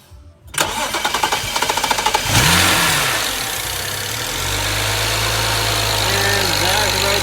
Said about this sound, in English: have someone turn the car on